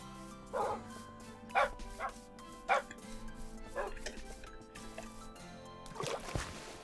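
Dogs in a video game barking and yipping in short bursts, several sharp barks spaced a second or so apart, heard against background game ambience.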